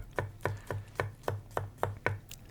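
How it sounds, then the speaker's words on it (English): Garlic cloves sliced into thin discs with a knife on a board, eight crisp, evenly spaced cuts in a steady rhythm, close and clear with no talking. "I am slicing the garlic into tiny discs as per usual."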